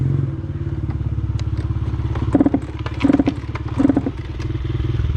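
A dirt bike engine idles roughly, then sputters and cuts out with clattering thumps as it stalls, close and loud, no talk.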